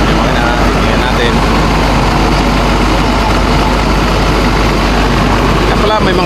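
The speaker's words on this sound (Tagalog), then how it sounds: "Ayan yung makina, tingnan natin." A new bus engine, shown before a road test to a Lemery terminal, runs at a steady, loud idle with a deep continuous rumble and no change in pace, heard up close.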